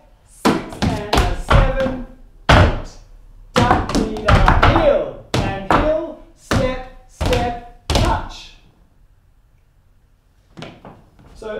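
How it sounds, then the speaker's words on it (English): Beginner solo jazz tap steps, a leg swing and shuffle ball change, crisp close taps and thumps on the floor in quick rhythmic clusters, then a pause and a couple of faint final taps. "as soon as you've knocked your right leg, you have to do the shuffle ball change"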